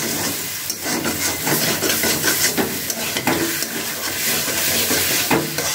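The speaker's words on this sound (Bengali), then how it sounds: "ভালো করে নাড়াচাড়া ওই যে এরকম দিচ্ছি।" Semolina with egg being stirred in a frying pan, a soft sizzling hiss with repeated scraping strokes of a spoon against the pan, close and fairly loud, no talking.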